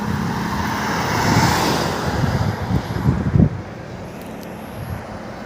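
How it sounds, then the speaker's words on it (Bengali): A Mahindra Bolero car passes on the Gazole highway near a toll plaza and overbridge. Its road noise swells and fades through heavy wind buffeting, with a louder brief thump midway. "দেখো একটা বোলেরোর গাড়ি যাচ্ছে।"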